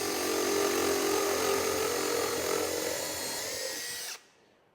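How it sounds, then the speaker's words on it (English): Power drill spinning an iCARB two-wing countersink bit, a loud steady high-speed whine with a broadband cutting hiss that holds for about four seconds, then cuts off abruptly into quiet. "Definitely makes a nice little countersink."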